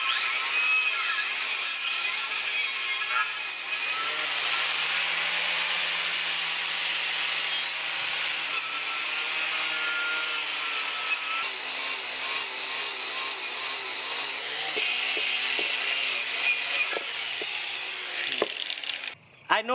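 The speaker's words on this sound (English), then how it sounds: "It's not my style to clean it with a wire wheel, but it's a quick way of doing it" Wire wheel grinding across a rough, rusty aluminum wheel rim from a donor 1970s Suzuki T500 Titan two-stroke motorcycle, a steady high abrasive whir with shifting scratchy tones, running continuously for the whole stretch before cutting off.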